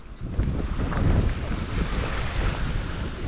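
Sea waves breaking on the shore near Priozersk, a steady loud wash of surf with wind buffeting the microphone throughout.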